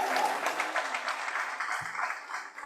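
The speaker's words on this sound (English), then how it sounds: "let's again give those folks a really warm round of applause" An audience at a small business pitch competition claps in a warm round of applause, dense and steady at first and thinning toward the end.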